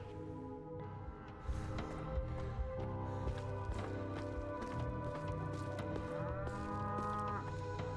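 Cow mooing in the video game Pathologic 3, repeated low drawn-out moos over a steady droning game soundtrack with layered tones, moderately loud and continuous throughout.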